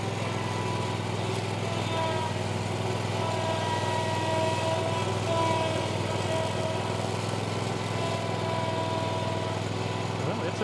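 A string trimmer mounted on a riding mower deck runs continuously, a steady, loud engine drone with a high whirring whine layered over a low rumble, with people talking underneath.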